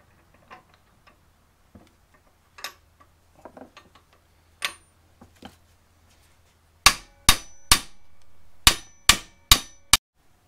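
Socket wrench and hammer working on the upper ball joint of a 1993 Ford F150 4x4: scattered light metal taps, then a run of seven sharp, loud metallic clangs in quick succession close by.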